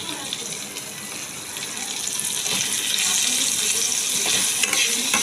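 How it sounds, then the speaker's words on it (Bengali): Taro pieces frying with salt and turmeric in a pan give a steady, broad sizzle that swells louder toward the end, with occasional stirring scrapes and no voice. "কচুটা একটু নুন আর হলুদ দিয়ে একটু ভেজে নেব।"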